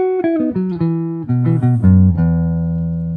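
A three-note musical cell built from the first, fourth and fifth notes of a simple scale, sounded as a run of clear sustained electronic tones stepping downward and ending on a held low note, alone without speech.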